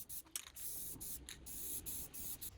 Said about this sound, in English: I'm using a Rust-Oleum spray can.